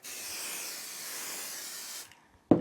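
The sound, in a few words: spray baste adhesive being sprayed on a quilt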